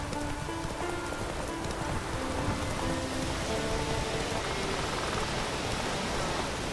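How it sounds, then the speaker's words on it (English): Constant rainfall in the open-world game The Witcher 3: Wild Hunt, a dense, even patter filling the whole stretch, with faint tonal game music running underneath. "Oh, raining again."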